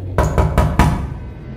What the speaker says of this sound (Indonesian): Ketukan itu masih terdengar.